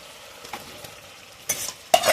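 Fried chicken pieces are stirred into a sizzling masala for chicken malai curry, with quiet scraping and then two sharp, loud bursts of stirring and sizzling close by, and no talking.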